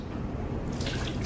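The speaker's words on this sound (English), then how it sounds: "So, wring it out and you're good to go." A soaked microfiber waffle weave drying towel is wrung out for car detailing, releasing a close, steady patter of dripping and splashing water with no voices.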